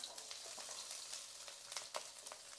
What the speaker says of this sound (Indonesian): ini petenya kita goreng setengah matang dulu ya